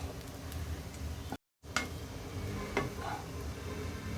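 Carrot rice being stirred in a pan after ground peanut powder is mixed in, with soft scraping and light clinks of a utensil against the pan, faint and close, briefly cutting out partway.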